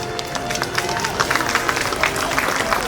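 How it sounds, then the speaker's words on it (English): Parade crowd at a Memorial Day parade in Passaic applauding a 90-year-old World War II veteran riding a float, steady broad clapping and crowd noise throughout. "We give him an applause."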